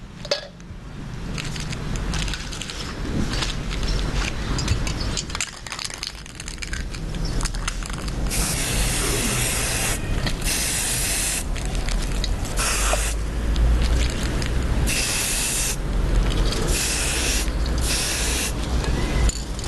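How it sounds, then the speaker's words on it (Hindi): Red spray paint hissing from an aerosol can onto a pipe outdoors, in long continuous bursts separated by brief pauses, loud and close with no talking. "अब ये स्प्रे पेंट मैं रेड कलर का ले रही हूँ।"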